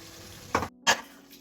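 Prawns and potatoes fry in a spice paste of onion, ginger, garlic, cumin, coriander, green chilli and tomato, a low sizzle broken by two short, loud stirring scrapes close by.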